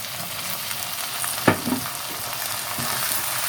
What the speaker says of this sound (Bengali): সব মশলাগুলো ভালো করে ভেজে নিতে হবে।